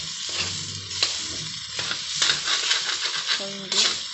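Corned beef frying in a pan, a constant close sizzle broken by repeated scraping and stirring strokes of a utensil against the pan at an irregular rhythm.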